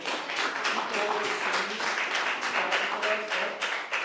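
Audience at a school board meeting claps briefly, a crisp patter of many hands close by with a faint voice or two underneath, lasting only a few seconds.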